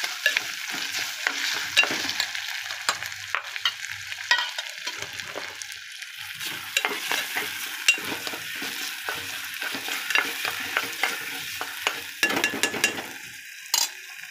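Onion-coconut masala fries in a pan, with a steady close sizzle broken by repeated stirring scrapes and light clinks of a utensil against metal, and no talking.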